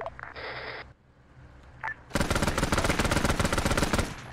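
Gunfire in the video game Arma 3, set in Vietnam: after a couple of brief electronic tones and a lull, a loud, sustained burst of rapid automatic fire rattles on continuously.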